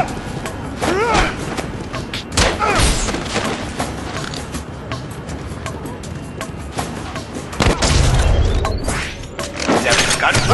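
Gunfire in the video game The Bourne Conspiracy, with loud repeated shots and booms in a busy action scene, heard under voices and game announcements.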